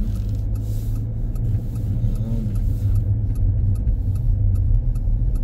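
Road traffic at a busy city intersection near a mall in Edmonton, Canada, in winter, heard from inside a car: a continuous loud low rumble of engines and idling vehicles with faint ticking sounds above, steady throughout.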